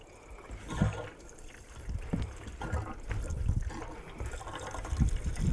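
Fuel poured into the tank of a cheap Amazon-bought bike, a soft, uneven trickle and gurgle of liquid that swells and fades over several seconds, close and moderately quiet.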